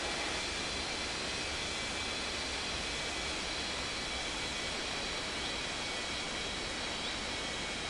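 Airliner takeoff in an air traffic control video game: a steady, broad jet-engine roar holding at an even level throughout, with no talk over it.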